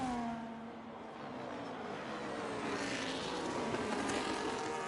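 Formula 1 race cars in a racing game scream along the Emilia Romagna Grand Prix circuit, with a Williams among them, as steady high engine whine shifts pitch when the cars accelerate and pass, loud and continuous with no talk.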